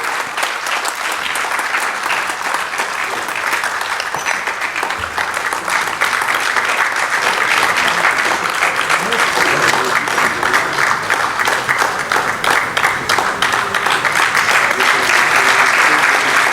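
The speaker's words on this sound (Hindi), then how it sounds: "तो तालियों में कमी नहीं होनी चाहिए, तालियां बजते रहनी चाहिए।" Sustained applause from a large audience in a conference auditorium, a dense steady clatter of clapping that holds for the whole stretch and swells slightly toward the end.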